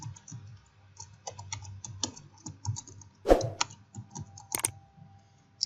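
Close-up typing on a computer keyboard, with uneven bursts of light key clicks and a couple of louder sharp taps in a quiet room, with no talking.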